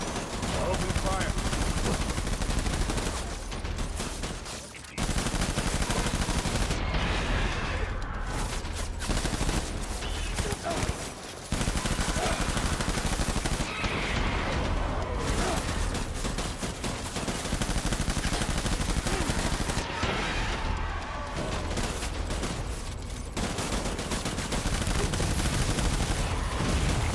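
Dense, sustained automatic gunfire in the video game Death Stranding, loud and nearly continuous bursts with brief gaps, and a voice occasionally speaking beneath the shooting.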